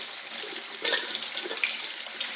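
Makeup brush rinsed under a running bathroom tap, a steady close hiss of flowing water with small splashing shifts as the bristles move through the stream, no voices.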